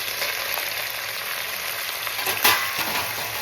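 Onions and tomatoes fry in a pan with coriander powder, fenugreek, cumin and dried red chillies, giving a steady, close, dense sizzle that runs unbroken throughout, with no voices.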